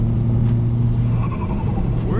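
A bolt-on modified Ford Fiesta ST exhaust pops and crackles steadily under a loud, continuous engine drone heard from inside the car, with people talking over it.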